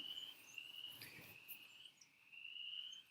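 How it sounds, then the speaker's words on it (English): Steady high-pitched trilling chorus of frogs calling outside a house, a continuous shrill drone that dips briefly and returns, fairly faint with no voices over it. "we're having a plague of frogs uh, in my house for some reason outside. So that's what you're hearing."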